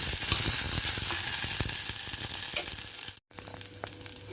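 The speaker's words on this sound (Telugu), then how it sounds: "ఇవి ఇలా వేగుతుండగా మనం ముందుగా ఉడకపెట్టుకున్నటువంటి ఈ బీట్రూట్ బాల్స్ వేసేసి" Boiled beetroot balls sizzle in oil with curry leaves as they are stirred, a dense, close frying hiss with light scraping that cuts out for a moment and then resumes.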